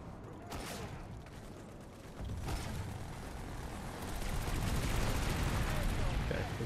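Sniper fire in Planetside 2 gameplay: a few sharp shots crack out at intervals over a steady bed of battlefield rumble and distant gunfire, with faint talk in the background.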